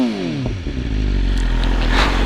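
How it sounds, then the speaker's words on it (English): A warmed-up 2020 BMW S1000RR is blipped through a couple of throttle revs, the engine pitch sweeping up and settling back into a loud, close exhaust drone with a light clatter. "Give it a couple revs."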